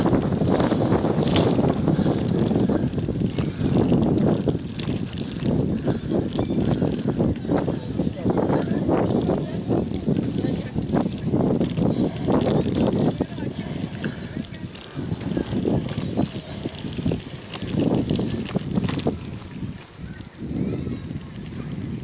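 Strong coastal wind by the sea buffets the microphone in a continuous roaring rush, with talking heard over it throughout.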